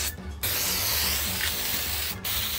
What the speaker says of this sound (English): I should probably stop spraying this.